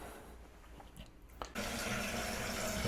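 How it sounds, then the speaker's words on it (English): Water refilling a toilet tank after the supply line is reconnected and turned back on during a leaking-toilet repair: a quiet stretch with a few small clicks, then a sudden steady rush of filling water that holds on at moderate level. "we're also going to reconnect the water supply and turn the water supply back on to the toilet."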